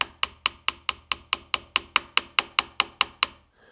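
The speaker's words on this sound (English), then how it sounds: "I've got my little hammer here, so I'm going to tap it in." A small hammer drives a pin into a Glock slide with about fifteen quick, evenly spaced light taps, crisp and close, in a steady rhythm that stops near the end, with no talking.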